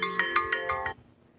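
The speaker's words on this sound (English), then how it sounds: "That was my alarm on my phone" A phone alarm rings out in a quick pulsing pattern, about six bright electronic beeps over a steady tone, loud and close, then cuts off abruptly into near silence.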